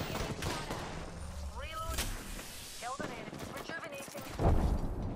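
Gunfire in the Apex Legends video game, with rapid shots and bursts cutting through a busy mix of game effects and a heavy blast near the end, under excited player voices.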